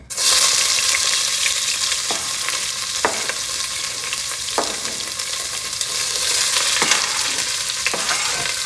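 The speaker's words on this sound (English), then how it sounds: "now we're gonna saute the onions, the peppers," Onions, peppers and garlic sautéing in a pan for shrimp rice, a loud, steady hiss of frying up close with a few sharp knocks and scrapes from stirring.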